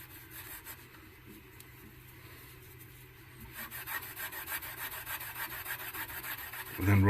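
Polishing cream is rubbed by hand onto the chrome of a Lasonic TRC-975 boombox, a soft repetitive scrubbing that grows louder and more rhythmic halfway through, ending in a brief knock.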